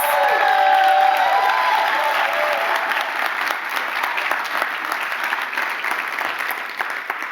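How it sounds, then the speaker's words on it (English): Loud round of applause from the audience at a youth and young adult storytelling show in Charlotte, North Carolina, dense clapping with a few cheers that tapers slightly over several seconds. "Let's give another round of applause to our incredible storytellers."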